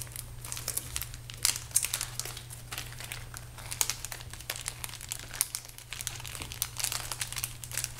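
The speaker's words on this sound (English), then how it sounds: "I don't like all the noise that it makes taking things out of the package" A plastic Ziploc bag crinkles continuously up close as scrapbook kit pieces are pulled out, with irregular rustling bursts over a low steady hum.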